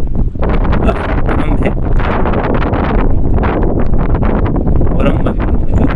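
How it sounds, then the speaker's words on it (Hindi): Strong wind of roughly 28 to 30 blows on the Karachi–Balochistan coast, roaring and buffeting the microphone continuously and loudly throughout, with a brief spoken voice barely rising above it. "तकरीबन 28 से 30 हवा चल रही है"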